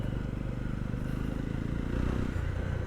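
A Jawa 42 2.1 BS6 motorcycle engine pulls steadily under acceleration, a continuous close droning roar with even harmonic pulsing that swells slightly toward the end, with no talking.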